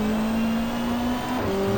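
BMW touring race car engine at the Gold Coast street circuit, a loud, sustained high-revving drone whose pitch climbs, drops briefly, then rises again as the car shifts through gears.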